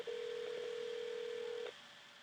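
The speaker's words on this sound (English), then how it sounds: "So it's calling the next person." Phone dialer software placing a call to the next number: a single steady electronic tone holds for about a second and a half, clean and close, then cuts off to near silence.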